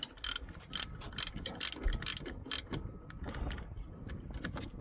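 A ratchet clicks in quick bursts while tightening bracket bolts on a 2013 Toyota RAV4 2.5 during an alternator and tensioner job, with sharp, close, rhythmic ticks in several short runs and then quieter mechanical handling.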